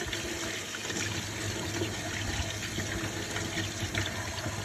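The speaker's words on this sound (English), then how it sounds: "let me wash my hands down real quick so I can get to this" Running tap water splashing as hands are washed at an outdoor cookout, a steady close rushing hiss that carries evenly through the whole clip with no talking.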